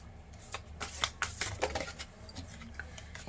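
Cards are laid out one by one for a Bhagavad Gita themed card reading, producing soft, close slaps and rustles that come in irregular bursts against a quiet background.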